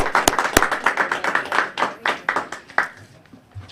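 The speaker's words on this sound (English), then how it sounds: "So let's give them a definitely hand of applause." Audience at a Toastmasters club meeting clapping to welcome new members, a dense round of hand claps with a few sharp near claps at the start, steady for about three seconds and then tapering off.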